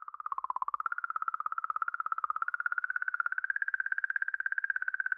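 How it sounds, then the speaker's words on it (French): A NASA space recording of an asteroid: a steady pulsing tone, like a rapid electronic warble or chirping buzz, throbs evenly for several seconds at moderate volume with no voices. "ça c'est le bruit d'un astéroïde"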